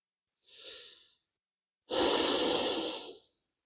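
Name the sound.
deep breathing during yoga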